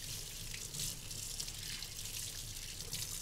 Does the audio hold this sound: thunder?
no